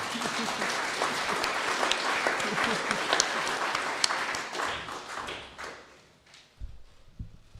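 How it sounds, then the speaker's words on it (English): Audience applause at a public forum on Victoria's gas policy, a dense sustained round of clapping from a crowd that gradually tapers off and fades out, with a few scattered claps near the end. "I reckon you, all of us, deserve a bloody big round of applause for turning up and making it work."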